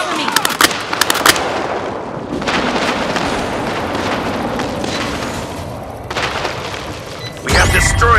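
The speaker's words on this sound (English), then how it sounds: "Enemy airstrike incoming." Gunfire and airstrike explosions in Call of Duty Mobile: rapid bursts of shots, then heavy rumbling blasts that roll on continuously and end in a loud final boom, with voices calling out over the action.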